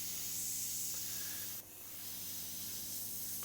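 Steady, close hiss of an HBA airbrush spraying sepia paint to shade Joker face makeup, with a brief dip in the airflow midway and no talk.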